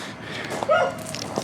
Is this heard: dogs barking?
yes